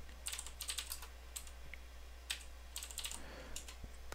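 Quick bursts of keystrokes on a computer keyboard as a command is entered, light clicky taps in short irregular runs, close and quiet over a faint low hum.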